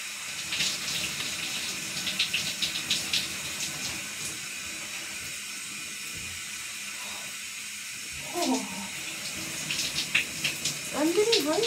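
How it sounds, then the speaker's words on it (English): Shower water running steadily in a bathroom, a continuous broad hiss of spray with a few brief louder splashes and knocks near the end. "And I'm still in the shower."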